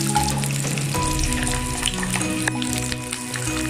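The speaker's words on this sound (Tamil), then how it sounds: "வெங்காயம் நல்லா வதங்கட்டும்." Whole small shallots fry in a pan for an egg gravy, producing a loud, constant close sizzle with light stirring, and steady background noise throughout.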